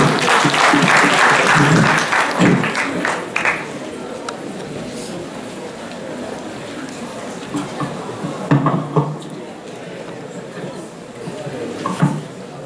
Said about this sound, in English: please, ladies, a round of applause for yourselves.